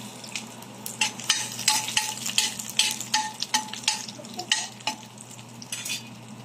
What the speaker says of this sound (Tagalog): magigisa na po tayo ng luya at aantayin po nating mag-brown